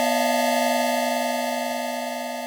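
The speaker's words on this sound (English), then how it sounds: "this swarm of square waves does create a nice sort of in-between point of inharmonic and harmonic content" A steady, metallic synthesized tone of six stacked square waves at 245 to 619 Hz, modelling a TR-606 hi-hat in Phase Plant, sustains evenly, a dense buzzing drone that fades slightly over its short length.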